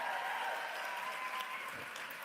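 An audience applauds steadily, a dense, even patter of many hands clapping that carries on throughout at moderate loudness with no voices over it.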